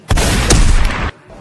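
A single loud gunshot-like blast from a loaded gun, a broad wall of noise holding for about a second before cutting off sharply, with no voices.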